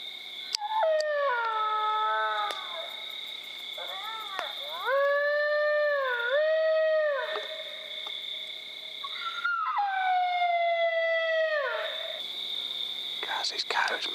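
Several coyotes howl and yip in a drawn-out chorus of rising and falling wails, heard at moderate distance in open country during a hunt, with gaps of quiet between bursts.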